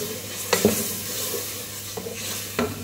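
Tomato paste made from two tomatoes added to a frying masala in a pan: a soft sizzle with a few brief stirring scrapes of a spoon, close and moderately quiet, no talking.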